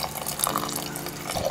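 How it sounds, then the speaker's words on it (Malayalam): Hot water pours steadily into a pressure cooker holding green gram, a close continuous splashing and gurgling stream with no speech over it. "അതിനാവശ്യമായ ചൂടുവെള്ളം നമുക്ക് ഇതിലേക്ക് ചേർത്ത് കൊടുക്കാം."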